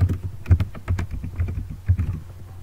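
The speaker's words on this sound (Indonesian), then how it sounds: "kita ketik daftar pustaka" Rapid, close keystrokes on a computer keyboard tap out a short burst of typing in an irregular rhythm, clear and alone.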